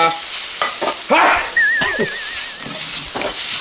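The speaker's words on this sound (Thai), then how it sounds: "อย่าผัดให้สุกมากนะครับสุกมากก็เดี๋ยวเนื้อเขาจะเหนียวนะครับ" Beef is stir-fried in a pan with a steady sizzle and scraping stirs. A high, wavering whistle-like whine runs through the middle of the clip, and there is no speech.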